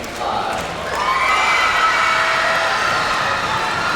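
A gymnastics crowd at a 1992 boys' high school state finals cheers a 9.5 high bar score, a sustained roar of voices and shouts that swells after the first second and holds steady.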